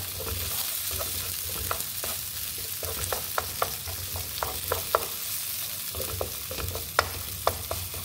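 Minced garlic and ginger fry in a hot pan with a continuous bright sizzle, punctuated by frequent sharp clicks and scrapes of a utensil stirring, close and alone.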